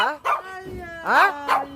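Dogs give several sharp, high yipping barks and whines in quick bursts, close and fairly loud, with pauses between them.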